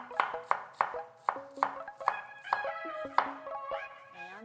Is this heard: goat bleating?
no